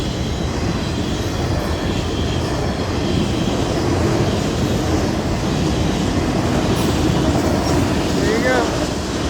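An FEC northbound freight train heading out of Miami rumbles past loudly and continuously, with a brief squeal near the end and wind-like roar throughout.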